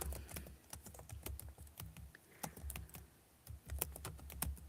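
Quick, quiet clicks from a computer keyboard being typed on, a steady irregular patter of keystrokes close by with short pauses, and no talking.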